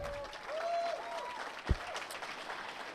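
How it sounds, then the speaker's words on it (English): Audience applause for two writers at a book event, a steady spread of clapping across the whole stretch with one sharper thump partway through, moderately loud and without speech. "Please give my two writers a round of applause."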